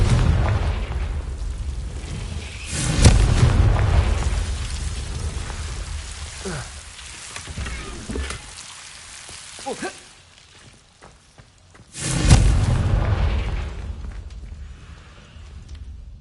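Confringo fire spells burst in the Hogwarts Legacy video game, producing two loud booming blasts a few seconds apart, each followed by crackling rumble that fades, with quieter magical effects in between.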